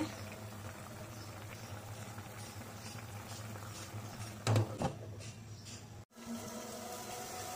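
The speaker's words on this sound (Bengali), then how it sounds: "এবার তরকারি রান্না হচ্ছে।" Tangra fish curry simmers in a covered pot on the stove, a steady low bubbling with a faint hum, broken by a couple of brief clinks near the middle and a short dropout before the bubbling resumes.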